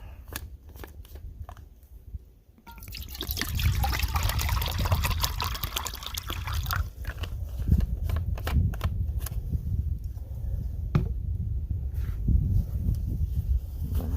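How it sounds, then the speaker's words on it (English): Water poured into a metal canteen cup outdoors in spring snow while making coffee in the woods, a steady close trickle and splash running for several seconds amid small clinks and handling noises. "let's get some water going here"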